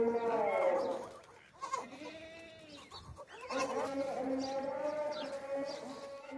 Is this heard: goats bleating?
yes